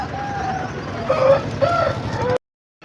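Roosters and hens at the Sunday rooster market in Pileru, with several short crowing and clucking calls over a busy crowd murmur, then an abrupt cut to silence near the end.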